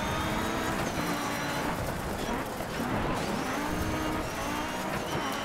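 Dense, constant roar of racing car engines in the video game Dirt 3 with shifting whine, loud and continuous, with no pauses.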